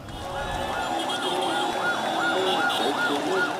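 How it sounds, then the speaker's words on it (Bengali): Wailing emergency sirens rising and falling in repeated cycles near Dhaka Medical College Hospital, moderately close, over a dense background of crowd noise and street bustle. "এমন পরিস্থিতিতে সাইরেনের শব্দে ভারী হয়ে ওঠে ঢাকা মেডিকেল কলেজ হাসপাতাল এলাকা"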